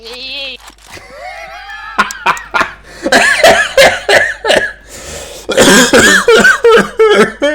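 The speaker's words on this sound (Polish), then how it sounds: "Kaszle w mikrofon." Harsh coughs and throat-clearing hit a microphone close and loud during a CS GO session, coming in irregular bursts mixed with snickering laughter.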